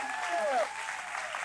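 An audience at a church youth camp gives a round of applause, a steady wash of clapping heard from across the room while a voice talks over it.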